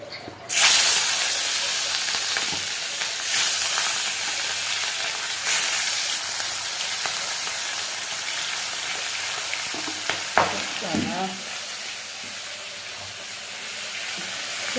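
Fish frying in hot oil in a pan gives a loud, continuous sizzle and hiss close by, with occasional clatters as it is stirred.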